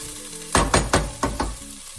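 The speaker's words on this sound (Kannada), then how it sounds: "ಸೊ ಇದು ಫ್ರೈ ಆಗಿದೆ ಆಲ್ಮೋಸ್ಟ್." Soaked kasuri methi and spices frying in a pan for biryani masala, five sharp scraping stir strokes over a low sizzle, close by, with no speech.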